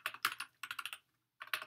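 Keys clatter on a new computer keyboard in quick close bursts of rapid keystrokes, a short pause, then another flurry, crisp and fairly quiet with no speech.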